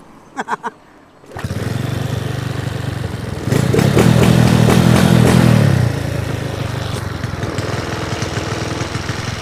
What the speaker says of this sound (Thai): ทีนี้สตาร์ทได้แล้ว ทีแรกมันสตาร์ทแบบนี้เลยวู้วู้วู้วู้